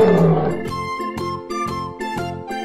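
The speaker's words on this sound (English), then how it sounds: "Lion." A lion roars in a children's cartoon, a loud growling call under a bright, repeated jingling musical pattern.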